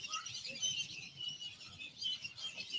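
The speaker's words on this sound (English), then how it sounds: "Look at these birds." A large flock of about a thousand birds gathers at sunset, making a faint continuous wash of distant high chirping and twittering with no clear individual calls.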